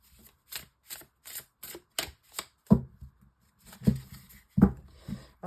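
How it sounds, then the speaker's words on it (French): A deck of oracle cards shuffled by hand, giving a run of quick, evenly spaced riffling taps up close, then a few heavier thumps as cards are set down. "Je vais prendre 2-3 cartes de l'oracle du langage amoureux."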